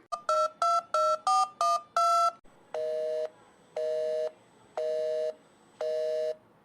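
A series of quick electronic beeps, like a number being dialed, followed by four longer, evenly spaced ringback tones of a phone line.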